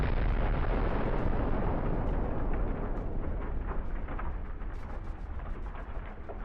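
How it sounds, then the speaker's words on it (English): A deep, roaring explosion of a Russian tank hit by a drone strike rumbles on continuously, with crackling bursts and debris sounds fading slowly over several seconds. "The explosion was so powerful that the tank's turret was blown off."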